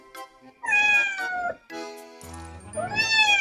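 A cat meows close by, with two or three drawn-out, rising and falling cries separated by short pauses, clear and without any talking.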